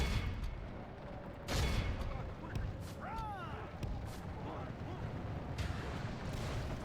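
Cannon artillery fires in Lucium: Total War, with a few loud booming blasts spaced across the clip over a dense, rumbling battle din.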